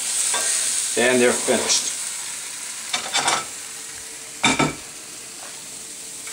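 Breakfast food frying in a hot iron skillet, a steady background sizzle broken by several bursts of scraping and clatter from a utensil against the pan, with a brief spoken line partway through.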